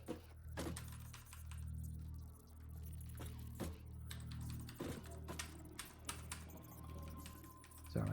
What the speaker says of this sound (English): Sorry, my keyboard does a weird thing at the moment.